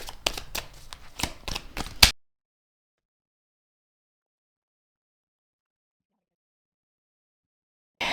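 Tarot cards are shuffled for a psychic reading, giving about two seconds of quick riffling flutters and slaps close by. A long silence follows, then a brief return of sound at the very end.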